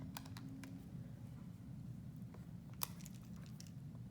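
Keys tapped on a calculator while entering numbers for an inverse normal calculation, sparse, faint clicks scattered over a steady low hum.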